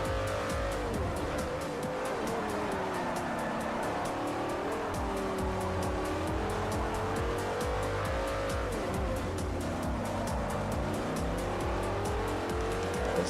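An Audi R8 race car in Forza Motorsport 4 roars continuously at high revs, the engine note rising and falling through gear changes with bursts of tire squeal.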